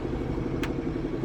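A Versatile 895 tractor engine idles steadily for a short stretch, a continuous low rumble with even mechanical clatter and a brief hiss partway through.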